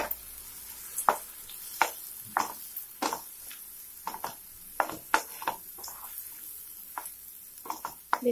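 Onion paste and green chillies frying in oil in a pan, a soft steady sizzle broken by repeated sharp spatula clicks against the pan at an irregular pace, close and without speech.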